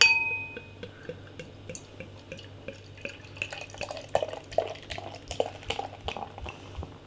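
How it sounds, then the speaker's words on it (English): The Bruery Mischief Belgian style ale is poured into a glass, with steady fizzing, splashing and faint clinks of glass building up over several seconds, close and moderately quiet. "Let's get the beer out into a glass and see what we get."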